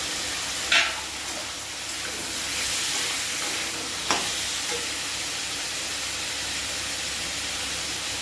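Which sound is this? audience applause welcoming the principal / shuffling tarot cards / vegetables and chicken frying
vegetables and chicken frying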